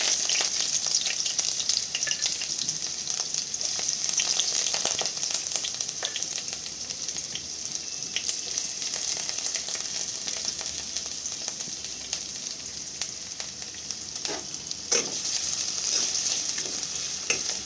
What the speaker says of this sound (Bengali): তো তেলটা গরম হয়ে গেলে এখানে আমি পেঁয়াজ কুচি অ্যাড করে দেবো।